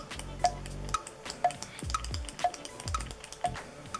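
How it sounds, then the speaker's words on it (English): A cushion concealer pen with a sponge tip applicator is clicked at its end repeatedly, giving six or so sharp, evenly spaced clicks about half a second apart, close and fairly quiet, with no talking. "It has a little sponge tip applicator, and you just click the end here."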